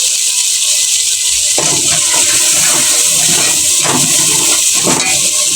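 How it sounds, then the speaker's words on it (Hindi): Water is poured into a sizzling masala of sautéed tomatoes and green chilies in a pan for aloo capsicum sabzi, giving a loud, continuous hissing sizzle with a few bubbling surges. "अब इसमें मैं थोड़ा सा मसाले में पानी डाल दूंगी"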